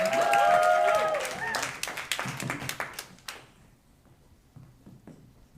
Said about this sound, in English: give a big round of applause to Meg as she comes out here